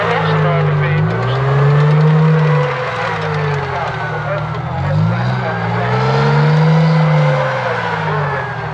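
A military gun vehicle, its gun held in travel lock, drives and manoeuvres to park up, its engine note rising and falling steadily and loudly throughout, with a low rumbling drone beneath.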